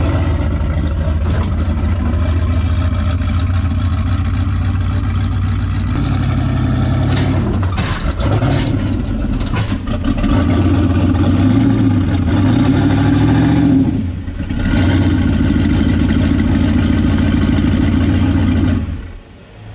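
Turbo LS-swapped Dodge Dart engine running steadily while being loaded onto a trailer, a loud, close rumble with several sharp revving blips and a brief dip partway through, bogging slightly under throttle.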